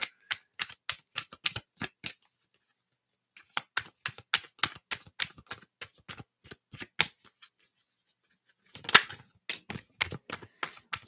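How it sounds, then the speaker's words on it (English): Tarot cards being shuffled in quick riffling bursts, a pause, then more rapid shuffling; crisp, close and fairly quiet. "we'll start shuffling the cards here"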